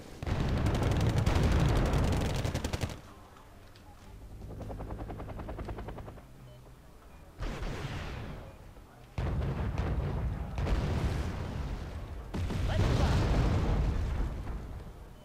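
Bombs and gunfire in a war video game with MiG jets in the air: loud blasts and rumbling booms with rapid firing, heavy at the start and swelling again in bursts, over engine-like drone.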